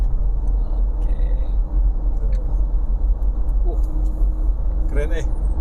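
A Toyota Fortuner cruises under 2000 RPM with a steady low engine and road rumble throughout, heard from inside the cabin, while occupants talk over the drone.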